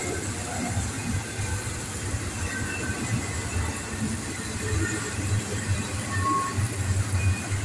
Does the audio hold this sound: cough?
no